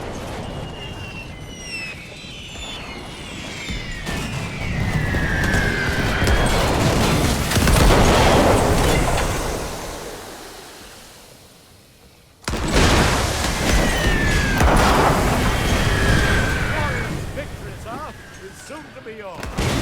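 Cannon fire in a Great War 6.0 battle as Germany lifts a siege: a dense, continuous rumbling battle din that swells, fades around the middle, then cuts back in at full strength.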